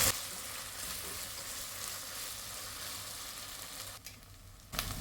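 Ginger garlic paste sizzles with onions in a hot pan, a steady, close crackling fry that runs without talk and drops off briefly near the end.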